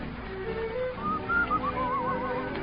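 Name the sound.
person whistling a tune in song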